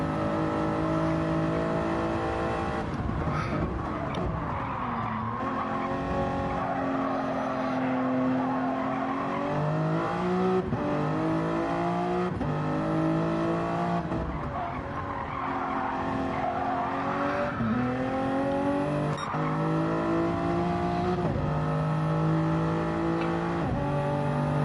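Toyota Supra race car in a racing video game, engine held high and revving steadily for the whole stretch, rising and falling with gear changes, with tire squeal and other cars mixed in, loud and continuous.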